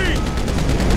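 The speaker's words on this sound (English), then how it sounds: "You're actually firing rockets!" Loud, rapid weapon fire from rockets launched in the video game GTA V, a dense run of repeated blasts filling the whole moment.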